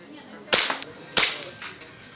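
Two sharp air pistol shots crack about 0.65 seconds apart at a practical shooting event, each close and loud with a brief ringing tail and a quieter click after.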